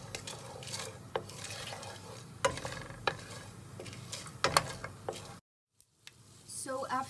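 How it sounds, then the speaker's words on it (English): Whole spices fry in hot oil ahead of a mutton tikka masala, a faint steady sizzle with sharp crackles and pot-scraping stirs, cut by a brief silence near the end. "So after you hear these cracking sounds, you know that it's ready."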